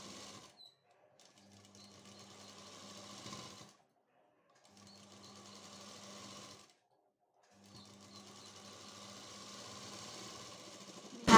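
A sewing machine stitches a kurti in three runs of rapid whirring stitching separated by short silences, close and fairly quiet.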